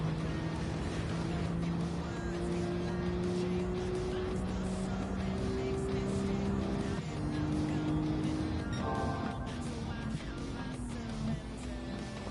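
Race car engine in the Gran Turismo 7 racing game, droning at steady pitch while cruising, then rising and shifting as the accelerator is applied, continuous and fairly loud with no talk.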